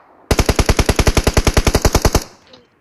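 A long, steady automatic burst of about twenty rapid gunshots rings out loud and close in a competitive video game scrim match, then cuts off into a fading tail.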